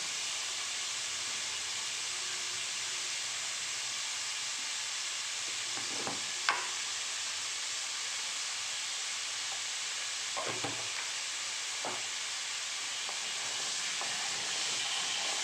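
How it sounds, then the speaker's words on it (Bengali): Potatoes fry in oil seasoned with nigella seeds, salt and turmeric, giving a steady close sizzling hiss throughout, broken by a few sharp stirring scrapes and clinks. "এবার আলুটাকে একটু হালকা ভেজে নেব, নুন হলুদ দিয়ে আলুটাকে আমরা ভেজে নেব"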